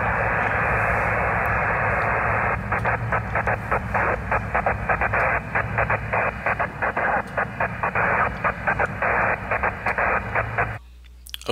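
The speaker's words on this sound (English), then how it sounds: "that's what it sounds like to be interfered with by a nearby station" Interference from a nearby 15 meter amateur station's CW keying on a radio receiver, a loud hiss chopped by rapid on-off Morse pulses for about ten seconds before cutting out abruptly.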